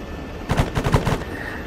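A quick burst of about five pistol shots in a video game, sharp evenly spaced cracks fired in under a second, fairly loud against quiet background.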